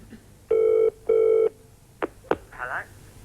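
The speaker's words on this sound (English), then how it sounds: "It's ringing out." A 1980s British telephone ringing out on the line: two long, loud, steady ring bursts in a row, then some clicks and a brief voice as the call is picked up.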